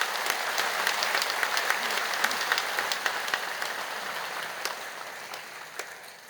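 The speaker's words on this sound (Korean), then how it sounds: "여러분 크게 박수로 환영하시지요." A church congregation claps steadily at a Sunday service to welcome two new ministers, a dense, sustained round of applause that fills the room evenly and tapers slightly toward the end.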